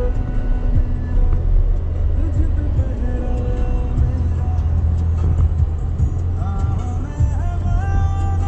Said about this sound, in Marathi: गाडी स्टार्ट झाली.